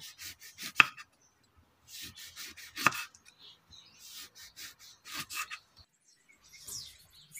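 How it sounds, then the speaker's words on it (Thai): A knife slices kaffir lime into rings on a cutting board, a series of irregular crisp thuds and slicing strokes, close and clear, with short pauses between bursts. "ต่อไปเราก็จะนำมาหั่นเป็นแว่นๆนะคะ"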